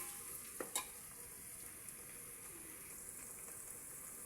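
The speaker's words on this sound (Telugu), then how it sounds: "అలా అలా తిప్పేద్దాం." Food stirred in a frying pan, a soft continuous sizzle with a few quick scraping clinks of the spoon early on, fairly quiet and with no talking.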